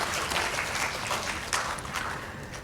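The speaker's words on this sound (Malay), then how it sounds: "Satu tepukan sekali lagi kepada pihak industri." Audience applause for invited industry panel judges at a university student research day, a fairly dense crowd clapping heard from a distance, moderately quiet, with a few louder bursts.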